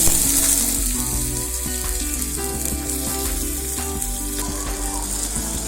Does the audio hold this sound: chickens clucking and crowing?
no